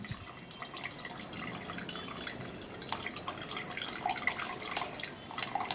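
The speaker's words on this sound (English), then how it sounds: "Then I'll have to be turning this into the strainer while it goes down" Liquid drips and trickles through a strainer into a cup, giving soft, irregular small drips over a faint background that grow a bit more frequent later on.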